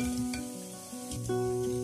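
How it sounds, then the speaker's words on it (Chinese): Fried sweet potato pieces are lifted from hot oil in a slotted ladle, with soft sizzling and light clinks over a steady tonal hum. "捞出控油。"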